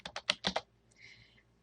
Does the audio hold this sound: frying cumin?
no